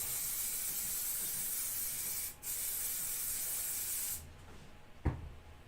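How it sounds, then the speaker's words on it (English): A steady hiss of aerosol spray on model scenery trees, close and continuous, briefly pausing once, then cutting off, followed by a soft knock. "And then another spray"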